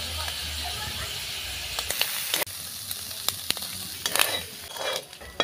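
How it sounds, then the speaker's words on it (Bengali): Snails frying lightly in a little oil in a wok give a steady close hiss and sizzle, broken by sharp scrapes and clatters of stirring, with a voice talking over it. "অল্প করে কড়াইতে তেল দিয়ে গেঁড়িগুলো ভাজার সময় খেয়াল রাখতে হবে বেশি শক্ত যাতে না হয়ে যায়"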